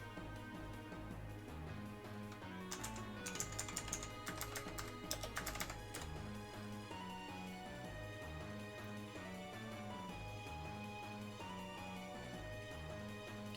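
Steady clicking of computer keyboard keys, with a denser burst of rapid keystrokes partway through, over continuous background music.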